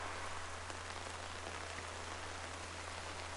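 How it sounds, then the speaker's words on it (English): Steady rain falls in a video game, a constant hiss of drops on surfaces with no pauses, evenly loud throughout and heard alone. "My guess is that it's raining."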